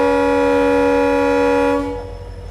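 A train horn sounds a long, loud sustained blast as the train pulls out of a railway station, holding steady before cutting off abruptly and leaving quieter rumbling noise behind.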